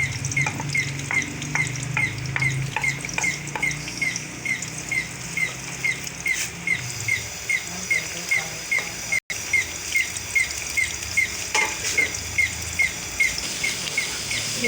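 Chopped onions fry in hot ghee for mash dal, a soft continuous sizzle under rhythmic scraping taps of a spoon stirring the pan, close and steady without talk.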